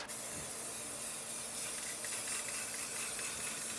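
Aerosol spray can laying a light dusting during an S10 interior and wiring job for an LS swap, a steady, fairly close hiss that runs unbroken throughout.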